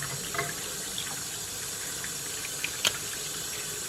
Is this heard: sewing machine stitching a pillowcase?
no